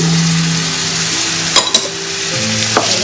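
Beans, tomatoes, chili and capsicum sizzle steadily in a pot, with a few sharp clinks of a spoon stirring against the metal partway through.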